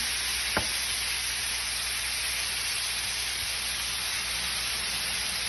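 Ground meat with chopped tomatoes frying in a pan, a loud, even, continuous sizzle like steady hiss, with a single faint tap early on and no voices.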